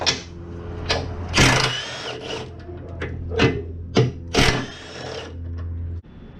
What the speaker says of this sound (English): we're just going to pry up on that plastic piece and kind of assist it to pop it up, and then remove the 15mm bolts